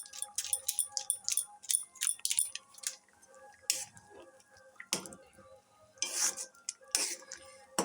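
Vegetable Maggi noodles with masala being stirred in a pan, with irregular metallic scrapes and clinks of a utensil against the pan, close and fairly loud, in clustered bursts separated by short pauses.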